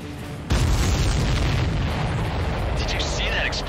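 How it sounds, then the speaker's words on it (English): A missile explosion in the combat flight game Ace Combat 7 sets off a sudden loud boom, followed by a heavy rumbling roar that keeps going under the jet and game sounds. "Did you see that explosion?"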